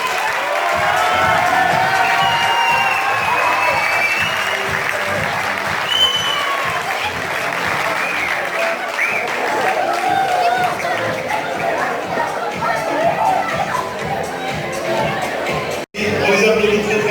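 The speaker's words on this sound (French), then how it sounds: "Donc, applaudissez 6e sens s'il vous plaît." Sustained applause from a large crowd at an Injaz Al-Maghrib ceremony in Tangier, loud and dense with scattered cheers and chatter, continuing almost without pause before a sudden brief drop near the end.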